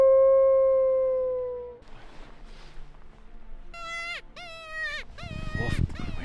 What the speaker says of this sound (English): We heard a wolf up on the ridge, gave one howl